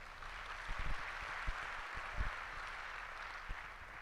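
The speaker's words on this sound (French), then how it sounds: "On peut applaudir le couple qui a passé tout à l'heure." Audience clapping for a couple at a Valentine's evening gathering, a faint, distant patter of applause with a few sharper claps standing out over roomy background noise.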